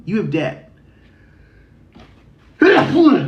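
A person sneezes sharply near the microphone, a quick burst followed by quiet, then talking resumes loudly at the end.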